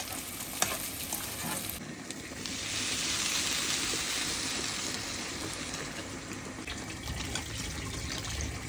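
White pulao cooks in a pan on a home stove with a continuous, moderate sizzle. The bubbling grows slightly louder midway and stays steady and close throughout.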